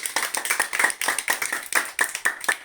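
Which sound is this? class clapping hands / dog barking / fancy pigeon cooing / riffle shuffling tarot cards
class clapping hands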